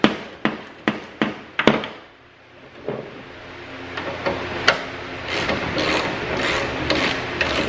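A ratchet clicks in quick, sharp bursts while the bottom tail light bolt comes off a Toyota Tacoma, followed by softer metallic handling and scraping close by. Nobody speaks.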